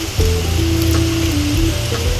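Food sizzles steadily in a hot pan, a continuous crackling hiss with a faint tonal hum beneath, close and fairly loud with no talking.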